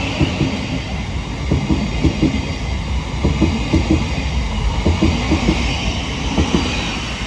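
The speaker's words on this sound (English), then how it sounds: "the slightly delayed 10:20 Southeastern City Beam service from London Charing Cross to" A Southeastern train from London Charing Cross to Gravesend rumbles past at Northfleet, with a steady roar, repeated wheel clacks over rail joints and a high thin whine above.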